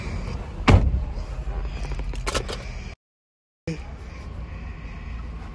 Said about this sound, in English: Close our door.